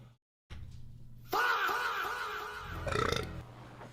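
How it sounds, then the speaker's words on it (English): A single long, loud, close burp from a man, rumbling steadily for a few seconds with a rougher swell near the end, heard alone without talk. "Excuse me for the burp."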